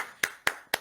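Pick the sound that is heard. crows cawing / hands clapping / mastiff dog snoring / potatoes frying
hands clapping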